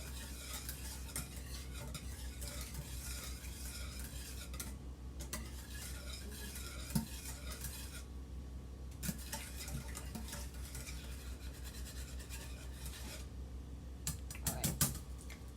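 A whisk works steadily through chicken velouté sauce in a pot, giving continuous close scraping and stirring with light metallic clicks over a low background hum.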